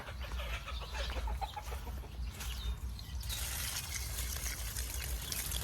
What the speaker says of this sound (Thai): ไก่มีเยอะอยู่นะ ประมาณสี่สิบห้าสิบตัว